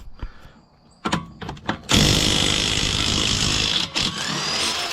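A Ryobi battery-powered impact drill loosens bolts, with a few short bursts first and then a loud, sustained rattling hammer-whir that runs close and steady with a brief dip near the end.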